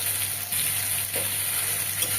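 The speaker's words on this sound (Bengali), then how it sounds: "এইবার যে মশলাটা বানিয়েছি ওটা দিয়ে দিলাম এখানে আদা পেঁয়াজ রসুন" A ginger, onion and garlic spice paste frying in a pan, a steady close sizzle with faint stirring scrapes over a low constant hum.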